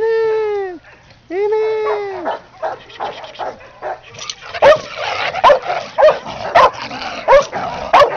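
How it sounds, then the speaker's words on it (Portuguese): A dog lets out two long, rising and falling whimpering whines, then breaks into a run of short, sharp yips and barks near the microphone, growing louder toward the end. "Essa é uma cadela urubu composto."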